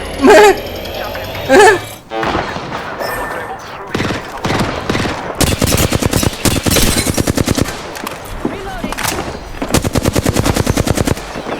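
Sustained automatic gunfire from a shooting video game, with dense rapid bursts of shots and separate single reports, loud and close, mixed with a person talking early on.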